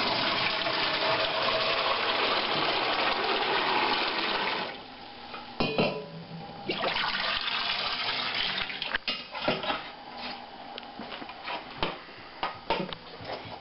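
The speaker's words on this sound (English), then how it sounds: "I'm going to take my little cranberry bog, and I'm going to just strain them out." Cooked cranberries poured through a strainer, water gushing and splashing steadily for several seconds, then a quieter stretch of drips, trickles and light clinks of the strainer and pot, with no talking.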